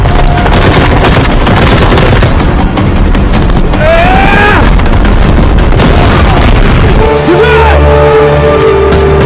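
Volleys of military gunfire crack out after a shouted command in a dramatic battle scene, loud and dense, with booming blasts under a music score and voices throughout.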